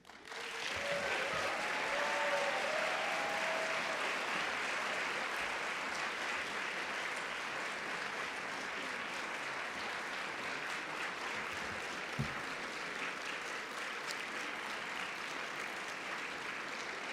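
An audience in a lecture hall at Kenyon applauds to welcome the poet Rita Dove, steady sustained clapping from a large crowd that stays even and full throughout, with a few brief voices early on.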